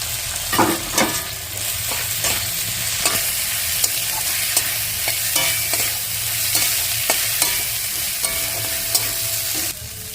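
Dried fish frying in a pan with ginger garlic paste, a steady loud sizzle and crackle with repeated scraping and stirring strokes from a spatula throughout, no voices.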